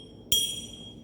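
A single glass bottle, one of seven set up for a sound-wave experiment, is struck once, giving a sharp clink that rings on with clear high tones and fades slowly over quiet room noise.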